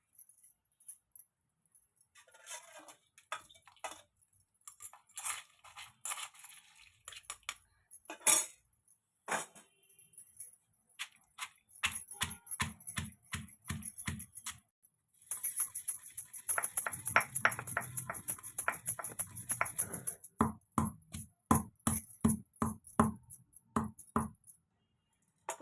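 Coconut and salt are pounded in a small stone mortar for a coconut raw mango chutney, sharp rhythmic knocks coming in uneven bursts that speed into steady repeated thuds, close and clear with no talking.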